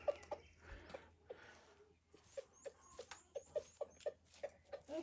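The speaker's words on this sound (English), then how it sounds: "Them roosters makes that sound. They're calling the hens, the girls, to come over." A rooster makes soft, rhythmic clucking calls to his hens, a string of short, quiet, evenly spaced notes close by in a calm outdoor setting.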